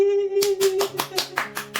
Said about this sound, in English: Everybody clap for me. Clap for me. Clap for me.